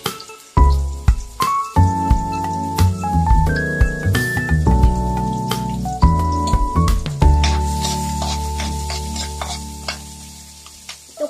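Chopped onion and garlic go into a hot pan for sautéing, giving a steady close sizzle and frying crackle over a clattering spatula and utensil knocks against the pan, without speech.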